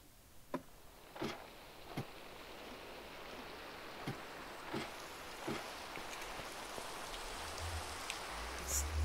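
Steady rain hiss in Minecraft fills the scene, with scattered sharper drip-like ticks standing out at irregular intervals; no voices.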